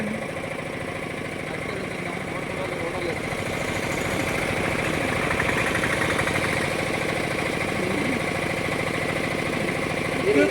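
A vehicle engine runs steadily at idle with a mid-pitched rumble, holding a constant level throughout while people talk nearby.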